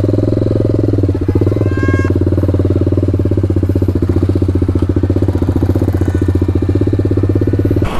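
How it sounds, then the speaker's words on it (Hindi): An SC Project aftermarket exhaust on a TVS Apache RR 310 motorcycle runs at a steady, loud idle, with a deep, rapidly pulsing rumble close by and a brief higher tone near the start. "तो एग्जॉस्ट की आवाज़ अभी आपने सुन ली है"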